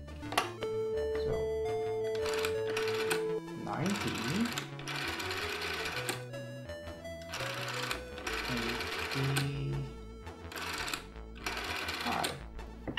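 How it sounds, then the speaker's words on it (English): Commodore SID chiptune from 1985 heard down a telephone line, bright synthesized square-wave melody with buzzing arpeggios and noisy percussion bursts, thin and band-limited, playing continuously. "now you can call 1985 and hear what the SID music sounded like back then"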